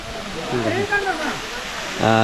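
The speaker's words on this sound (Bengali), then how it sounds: "খুবই সুন্দর একটা ঝর্ণা দেখেন কি সুন্দর করে পানি পড়ছে" Rupali waterfall in the Bandarban hills pours with a steady, broad rushing wash of falling water, heard close and continuous beneath someone talking throughout.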